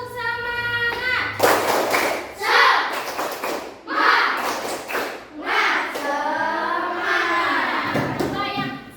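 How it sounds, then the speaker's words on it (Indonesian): A class does the tepuk semangat spirit clapping routine, bursts of group handclaps and thumps in a patterned rhythm mixed with chanting voices, loud and close. "Tepuk semangat."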